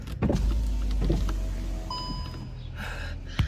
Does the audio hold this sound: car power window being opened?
yes